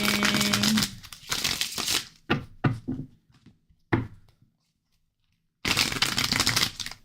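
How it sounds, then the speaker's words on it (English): Tarot cards being shuffled in bursts of riffling and crisp flicking, close and fairly loud, with a few separate taps and quiet pauses in between. "I'm going to shuffle real good"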